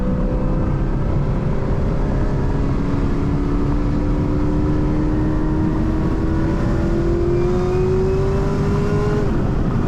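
A Chevrolet Camaro ZL1 with a swapped 10-speed transmission and eLSD accelerates through its gears from inside the car, its engine note rising steadily and loud throughout, with no talking.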